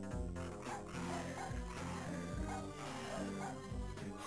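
Small skeleton dogs in the Game Boy Advance game Frogger's Adventures: Temple of the Frog give repeated short yappy barks and whimpers over busy game music, steady and close, with some talk mixed in.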